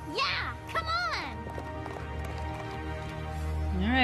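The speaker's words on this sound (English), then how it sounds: "That's a horse!" Horse hooves clop and a high horse whinny rises at the start and end of a My Little Pony: Friendship Is Magic cartoon rodeo scene, mixed with animated character voices and music.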